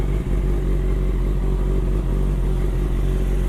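A 2024 facelift QJ Motor QJ 600 RR motorcycle engine runs at the start of a test ride. A loud, close, continuous drone holds steady throughout, with no voices.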